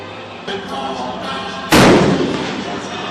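At a military weapons demonstration, a live-fire gunshot booms loudly and sharply, then fades into a rumbling echo, heard over a background of continuous noise.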